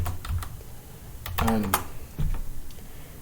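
Keys clatter on a Linux computer keyboard in a few quick bursts of typing, close and moderately loud, with a brief voice-like tone partway through.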